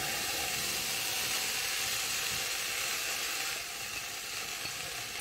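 A steady, even sizzle of March hygrophorus mushrooms cooking in a hot saucepan, a constant bright hiss with no talking.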